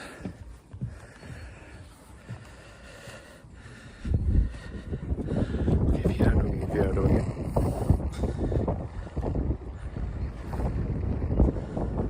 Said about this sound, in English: Now this is a proper wind here.